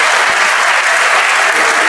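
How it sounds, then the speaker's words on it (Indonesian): Loud, dense applause from an audience at a church sermon fills the moment continuously, a close, unbroken roar of many hands clapping at once. "Tepuk tangan buat ini."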